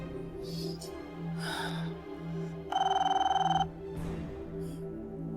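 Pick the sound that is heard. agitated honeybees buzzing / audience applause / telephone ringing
telephone ringing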